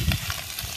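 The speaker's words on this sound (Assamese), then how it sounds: "এইটো পিঁয়াজটো আপোনাৰ ভাজি থকা হৈছে" Onions frying in a pan give a brief, close, steady sizzle with soft crackling and no voices.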